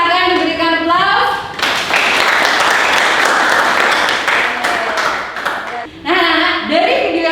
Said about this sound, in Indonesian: Silakan diberikan aplaus.